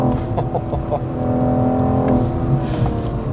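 A BMW M440i G22 with its inline-six engine runs steadily with a smooth, even low hum, heard under a person talking throughout.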